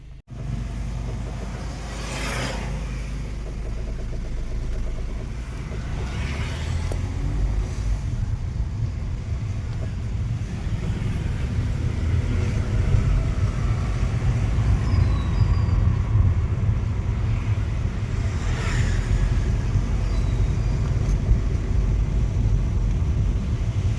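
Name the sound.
vehicle approaching on a road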